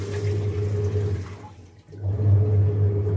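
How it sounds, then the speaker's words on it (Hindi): An IFB washing machine rinsing a blanket: steady water sloshing and churning with a low motor hum, loud and close, briefly dipping quieter before resuming. "आप देख सकते हैं वाटर फिल हो चुका है और ये रिंस कर रहा है।"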